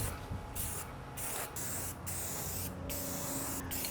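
A spray paint can sprays in short bursts, harsh hissing blasts separated by brief quiet gaps, close and fairly loud.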